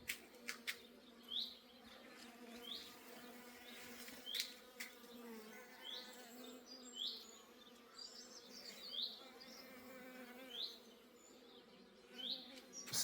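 A low, continuous buzzing of many honeybees around a flowering catalpa tree hums throughout, faint and steady, with occasional bird chirps rising above it outdoors in the morning.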